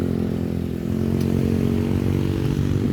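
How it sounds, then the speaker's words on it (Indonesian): Motorcycles and other vehicles idling in a queue at a toll road entrance, a continuous loud engine drone with close motorcycle rumble and light clatter, steady without clear acceleration. "Nah ini masa kendaraan sudah banyak yang antri di sini mau masuk tol."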